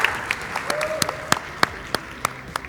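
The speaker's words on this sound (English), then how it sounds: "Round of applause for yourselves." Hackathon participants give a brief round of applause at the end of the event, with scattered sharp claps standing out over a low room murmur.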